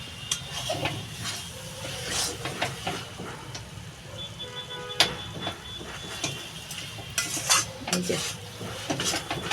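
Shrimp dish being stirred in a pan, with scraping and clinking of a utensil against metal over a steady sizzle, close and moderately loud with irregular strokes throughout; no talking.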